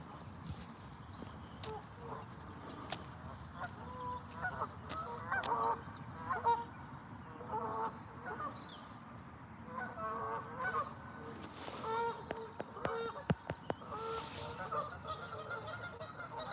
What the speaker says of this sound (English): More geese on the island, but a bit far away from this distance.